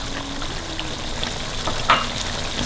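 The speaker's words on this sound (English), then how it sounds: "now you let this fry for at least 4 minutes" Lime pickle mixture frying in a pan, a steady close sizzle and crackle with a brief louder pop near the end and no talking.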